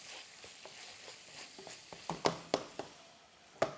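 A steak fries quietly in an oiled pan with a soft, low sizzle broken by several sharp, irregular pops and spatters.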